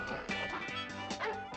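A dog barks and yips in a few quick bursts, with a whimpering edge, close by.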